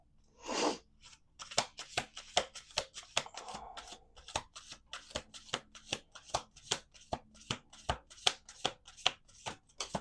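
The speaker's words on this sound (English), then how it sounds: "going to do 2 more shuffles." Playing cards are riffled and bridged over and over, a quick rhythmic run of crisp snaps and flutters repeating steadily at close range.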